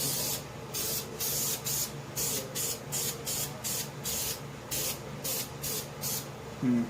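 An aerosol can sprays a textured paint coat onto parts of a 2002 Honda Reflex scooter in rapid repeated short bursts, a close hissing spray with brief gaps between pulses.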